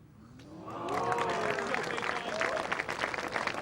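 Applause from a golf gallery at The Open 2003 final round swells from quiet to sustained clapping, a dense distant crowd wash, with a commentator's voice faintly underneath.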